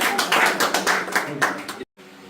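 Congregation clapping together in thanks to God at a Hindi-language Christian prayer gathering, a dense burst of many hands lasting under two seconds before cutting off abruptly into quiet.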